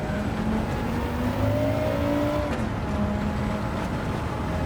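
A Volkswagen MK1 GTI tuned to 788 hp races at the Nordschleife in Gran Turismo 7, its engine a steady, continuous drone held near full throttle, with small pitch shifts and no talk.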